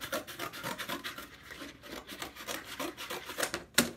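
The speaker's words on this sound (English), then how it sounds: "I'm gonna cut a long strip of cardboard and then I'm gonna cut another strip the same width." A long strip of cardboard being cut for a homemade puppet stage, heard as a close, steady run of rasping, scratchy strokes in quick rhythm with brief pauses and no talking.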